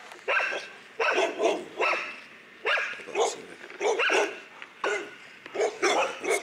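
Angry dogs in a video game bark over and over in a rapid, uneven stream. The barks are loud and overlapping, as if several animals are barking at once.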